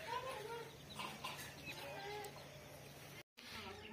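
Chickens cluck close by in short, repeated bursts over a steady background hum, with a brief dropout near the end.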